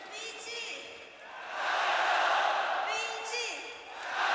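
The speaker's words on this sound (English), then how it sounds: "They're getting a VG cheer going on." A packed arena crowd at a Dota esports match between Evil Geniuses and Vici Gaming roars in a rising, sustained cheer for VG that swells and fades, with a commentator's voice over it at the start and end.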